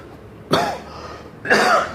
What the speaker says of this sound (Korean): 갑자기 기침이 이렇게 나죠.